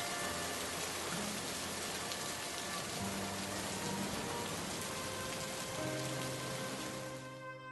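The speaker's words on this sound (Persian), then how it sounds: "دامنه صدای حاصل از سقوط قطرات باران حدوداً 50 دسیبل" Falling raindrops as a dense, even hiss of rain on surfaces, steady and fairly loud for the whole stretch, with faint tonal hum underneath.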